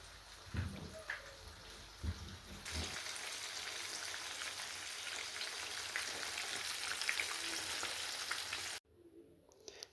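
Flour-dusted fish frying in hot oil, a loud, steady crackling sizzle that swells after a few handling clatters and then cuts off abruptly near the end, leaving faint room noise.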